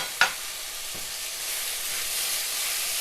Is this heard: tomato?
yes